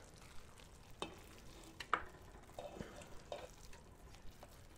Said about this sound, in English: we're just going to mix this up really good, and we're going to let this turkey cook down